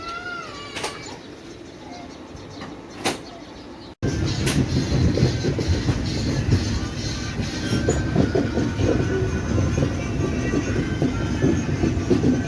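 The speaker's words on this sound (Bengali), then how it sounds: "ওই পাশে যে ট্রেনটি পাস হচ্ছে সেটি হলো ছাপড়া দুর্গ" Chhapra-Durg Express passing on the adjacent track near Raipur, a loud, steady rumble of rail cars that starts abruptly and continues, heard from a train stopped at a signal.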